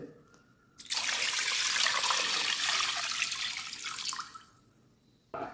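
Water pours steadily into a pressure cooker holding chicken for Arabian harees, a loud broadband gush lasting about four seconds before tapering off into quiet.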